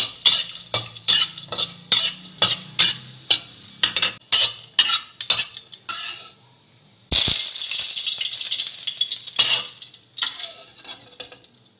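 Pork lard cracklings are stir-fried in a claypot, first with about a dozen rhythmic spatula scrapes and clanks, then a sudden loud, sustained sizzle that continues with more scraping strokes.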